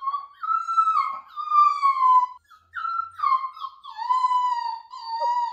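A puppy whining in its crate during crate training, a series of high drawn-out whimpers and wavering howls with a brief pause midway, close and clear with no talking.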